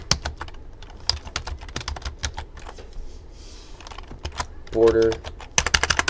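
Rapid clicking of fingers typing on a computer keyboard while entering CSS code, irregular bursts of keystrokes running through the whole stretch beneath a voice.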